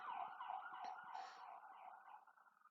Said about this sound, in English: you'll hear sirens outside